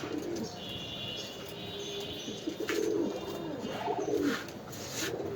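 Pigeons at a pigeon farm in Mirpur 13 coo softly and repeatedly, with soft rolling calls overlapping against quiet background noise and an occasional faint chirp.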